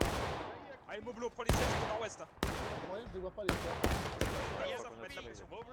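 Sharp rifle shots crack in the War of Rights video game during a historical rules event on the Washington Street map, with several separate loud reports spaced over steady talk.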